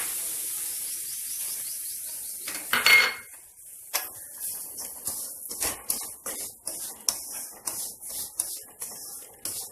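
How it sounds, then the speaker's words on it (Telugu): Semolina roasts in two spoons of hot oil in a pan for upma, a steady hiss at first, then repeated scraping and clinking of a spoon against the pan in a rhythmic series. "2 స్పూన్స్ ఆయిల్ వేసి ఆయిల్ హీట్ అయ్యాక రవ్వ వేయించుకోవాలండి"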